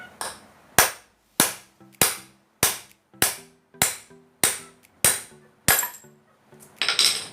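A hammer strikes repeatedly to drive a bearing out of a Honda LS125 motorcycle engine, about ten sharp, loud metallic blows at a steady rhythm, each ringing briefly, with no talk.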